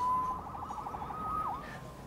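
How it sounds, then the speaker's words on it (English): Police siren in the Marvel's Spider-Man video game, a steady wailing tone that rises and sweeps, heard at moderate distance over a low background rumble. "Saved by the siren."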